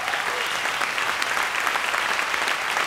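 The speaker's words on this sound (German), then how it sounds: "Und auch Luca verdient einen Applaus, bis sie auf der Bühne ist." An audience at a poetry slam in the Roxy venue in Ulm fills the room with dense, continuous applause, loud and close, with no pauses.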